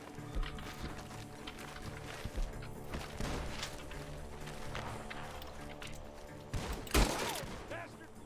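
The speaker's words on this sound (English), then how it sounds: "The gunshots are coming from that barn." Gunfire coming from a barn in Red Dead Redemption 2, scattered shots at middle distance with one loud close crack near the end, over a busy game background.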